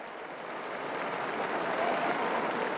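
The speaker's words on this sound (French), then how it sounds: "sous les acclamations des fidèles" A large crowd of faithful at the Vatican Angelus cheers and applauds the Pope's appearance, a dense, steady roar of clapping and voices that swells slightly over a few seconds.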